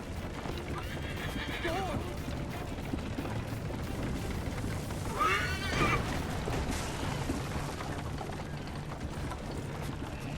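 A horse whinnies loudly in the middle of Assassin's Creed Liberation gameplay, with clip-clopping hooves and mechanical clatter running under a dense game soundscape.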